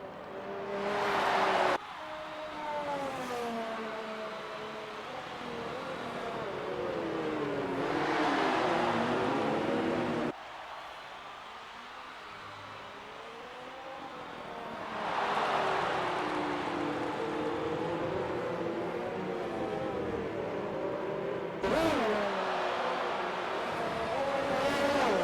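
Race cars in an online racing game German GP, bunched behind a safety car, give a steady engine drone with rising and falling pitch, loud and continuous, with brief cuts and swells as the sound shifts.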